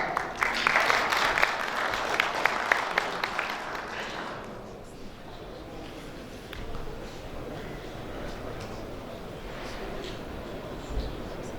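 Audience applause at a TÜRKSAT talk on data centers and cybersecurity, welcoming the next speaker; dense clapping for about four seconds, then fading into quieter room murmur.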